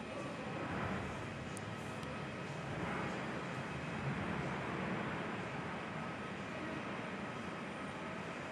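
A Qantas airliner in oneworld livery passes near Perth with a steady, broadband jet roar. It is fairly distant and even in level throughout, with no voices.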